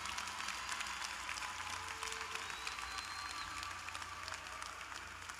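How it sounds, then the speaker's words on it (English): Sustained audience applause at a high school graduation ceremony, a dense, even wash of many hands clapping from a large crowd, moderately distant and unbroken throughout. "Give them a round of applause because they deserve it too."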